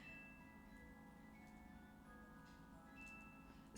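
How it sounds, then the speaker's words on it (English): A cuckoo clock in another room ticks steadily, faint and distant beneath a quiet room hum, with no voices. "Maybe I hope you could hear my cuckoo clock. It's in the other room."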